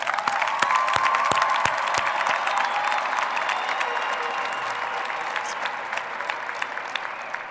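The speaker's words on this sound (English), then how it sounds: "Ladies and gentlemen, please applaud the class of 2012." A high school graduation audience gives the class of 2012 a long, full round of applause, dense clapping with a few cheers that slowly eases.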